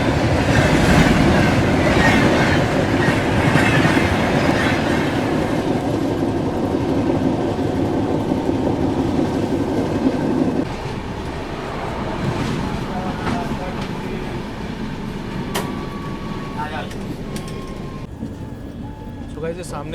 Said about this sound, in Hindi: सामने से आ रही है अगस्त क्रांति राजधानी एक्सप्रेस।